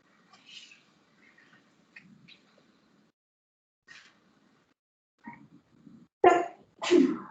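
A single sharp sneeze bursts out loudly near the end, in a quiet lecture setting, after a few soft, scattered sounds.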